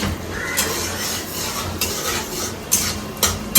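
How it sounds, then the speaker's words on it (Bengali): Moong dal frying in mustard oil with cumin and bay leaf in a wok, close scraping stirs of a spoon against the metal over a light sizzle, in repeated strokes. "কড়াইতে সর্ষের তেলে জিরা তেজপাতা ফোড়ন দিয়ে মুগ ডাল ভেজে নিচ্ছে"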